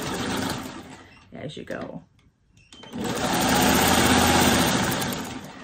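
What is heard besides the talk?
old Singer 1591 sewing machine stitching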